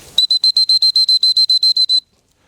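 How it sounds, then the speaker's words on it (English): A shrill dog training whistle blown in a rapid series of about twelve short, evenly spaced pips for recall, loud and close, then silence. "we use a whistle"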